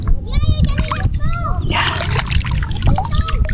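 Freshly caught fish are rinsed in water, with steady splashing and sloshing under lively talk and a voice, close and fairly loud throughout.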